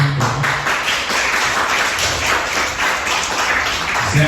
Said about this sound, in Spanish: Les voy a pedir un aplauso entonces acá para la invitada